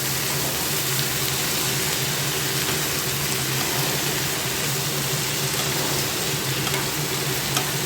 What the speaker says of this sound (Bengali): মশলাটার সাথে ভালো করে মিক্স করে কিছুক্ষণ সাঁতলে নেব।